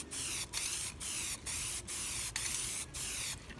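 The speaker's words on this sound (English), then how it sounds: "just regular old black spray paint, whatever you want, and just kind of spray it over it" Black spray paint hissing from an aerosol can in six short, evenly spaced bursts, each about half a second long and separated by brief pauses, close and fairly quiet.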